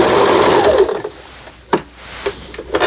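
A Lion JF1012 sewing machine running in reverse after repair, a loud continuous whir of stitching that stops and gives way to a few brief clicks and knocks.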